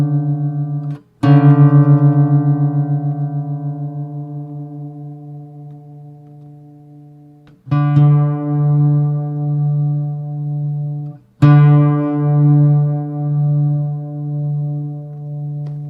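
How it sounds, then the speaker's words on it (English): Guitar tuning demonstration: two plucked notes ring together three times, each strike decaying with a slow pulsing beat that eases as the pitches move toward unison, clean and close with no talking. "As the 2 notes become the one same note, you can hear the beating slows down and eventually vanishes, as in this demonstration on the guitar."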